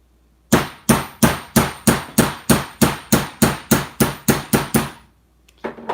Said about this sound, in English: It's always a pain having the hammer in your hand